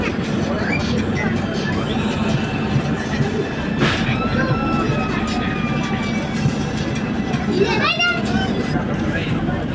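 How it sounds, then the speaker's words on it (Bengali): A Kolkata metro train pulls out of Maidan station, a loud continuous rumble and rail clatter inside the carriage, with children's voices and chatter over it and a brief high squeal near the end. "ময়দান স্টেশন ছেড়ে আমার ট্রেন এখন বেরিয়ে যাচ্ছে।"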